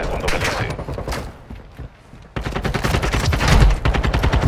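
Loud gunfire in Call of Duty: Modern Warfare II comes in dense bursts of rapid shots, a short lull in the middle, then a longer sustained volley with heavy, close reports.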